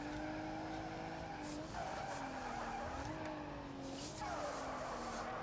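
A car drifts in the BeamNG driving game with a continuous wavering tire squeal over steady engine noise, loud and sustained throughout with pitch sliding up and down.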